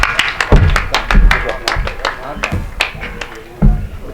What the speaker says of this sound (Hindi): एक बार जोरदार तालियां बजाकर आप स्वागत कर दें भाई दीपक सैनी